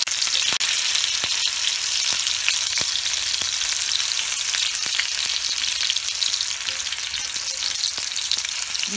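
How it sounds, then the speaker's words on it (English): Salmon fillets frying in a pan over medium-high heat in Indian style, a steady close sizzle and crackle with occasional sharp pops throughout, no voices. "Give some room to fry. Allow it to fry for 2 to 3 minutes."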